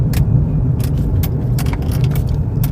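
Steady, loud low engine rumble from inside a car being driven, with light jingling clicks over the continuous road noise.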